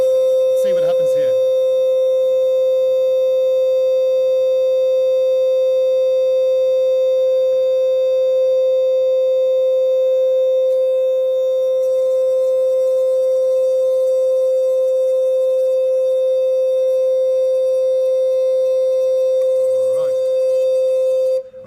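A loud, pure, unwavering electronic tone from a frequency generator holds at one pitch for over twenty seconds, with brief rattling noises near the start and end.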